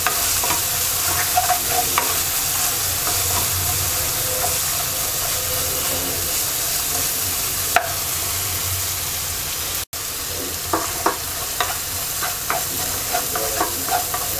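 Spice masala for a hilsa fish curry frying and being stirred in a pan, a continuous loud sizzle with frequent scraping and clicks from the stirring, and no speech.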